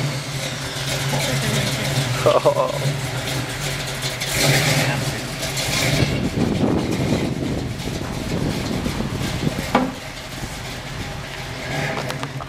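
A 1994 Toyota 4Runner with a 350 V8 bored 40 over rumbles at idle and revs up outdoors, steady and fairly close, with people talking over the engine.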